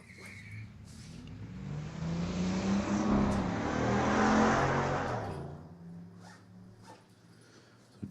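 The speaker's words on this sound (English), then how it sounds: "Jenna Monroe, a little bit of wheel spin off the starting line." A 1993 Pontiac Firebird and another drag car launch off the starting line with some wheel spin, engines swelling to a loud roar that peaks mid-run and then fades into distant track noise.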